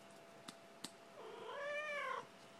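A black cat lets out one drawn-out meow close by, rising then falling, after two brief soft taps in an otherwise quiet room.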